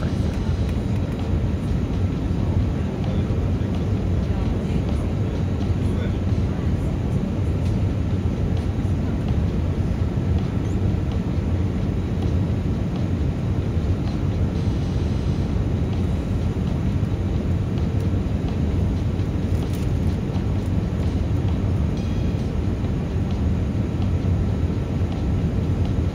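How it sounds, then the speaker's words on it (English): Steady, loud cabin roar of a Eurowings airliner landing in Frankfurt, a continuous broadband rumble that holds without pause throughout. "So I buckled up and watched our landing in Frankfurt."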